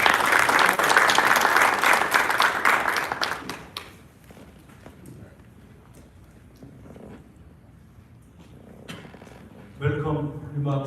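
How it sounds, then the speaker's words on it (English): Audience applause at a Washington DC forum for a Korean War 75th anniversary ceremony swells loud and dense for about four seconds, then dies away into quiet room noise before a voice begins speaking. "Let's give him a big round of applause."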